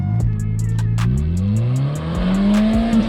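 A car accelerates hard in a clutch-control game while shifting, the engine note dropping and rising again with each gear change. A brief tire chirp sounds near the start, and the car roars close by.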